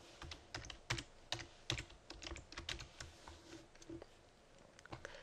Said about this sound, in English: And I'm going to type in tutorial again.